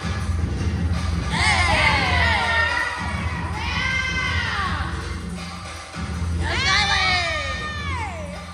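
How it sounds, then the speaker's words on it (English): High, wavering children's voices cheer and shout in excited bursts over a steady crowd murmur, with about three big swells of cheering. "Callie's cheering"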